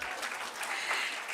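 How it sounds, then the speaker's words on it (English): An audience at a graduation ceremony giving a short burst of steady applause, a dense brisk patter of many hands clapping at moderate loudness with no voices over it. "Please clap for me."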